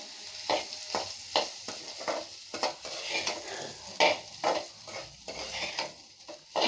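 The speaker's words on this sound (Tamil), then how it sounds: "நல்லா பெரட்டணுங்க" Spiced potato fry with garam masala, salt and turmeric being stirred in a hot pan, with a steady sizzle under repeated scraping strokes of a spoon against the metal, close and fairly loud, without talk.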